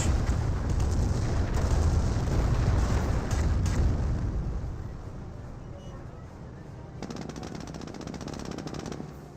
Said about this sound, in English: so you can bring some more creeping barrages